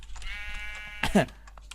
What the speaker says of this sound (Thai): แล้วเขามาปล่อยแกะตรงนี้ทำไม